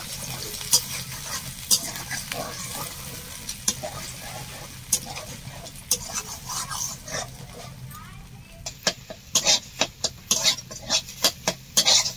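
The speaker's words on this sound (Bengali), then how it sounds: "ভালো করে ডিমটা ভেজে নেবো।" Salted egg fries and is stirred in a pan at home, with a steady close sizzle and repeated scraping strokes that quicken toward the end, and soft talk in the background.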